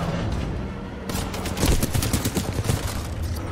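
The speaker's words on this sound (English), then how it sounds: "Who's shooting me in the back, huh?" Rapid gunfire from the video game Titanfall 2 breaks out partway through, with close bursts and overlapping shots building into a loud fusillade that continues to the end.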